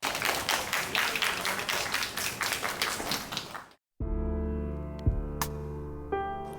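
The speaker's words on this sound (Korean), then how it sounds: "우리 박수 부탁드리겠습니다." An audience applauds a participant returning to their seat on a stage show, dense clapping for several seconds before it cuts off and music takes over.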